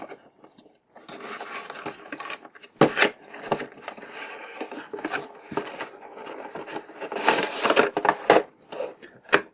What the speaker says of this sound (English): Single piece of tape holding this one flap in place. Quick slice, and we should be into this thing.